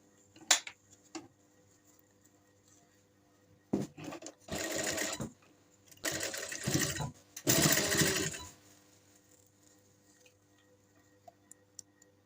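Bursts of rapid mechanical stitching from a sewing machine attaching loops into a neck strip, three main runs of a second or so each, separated by quiet pauses with small clicks and taps.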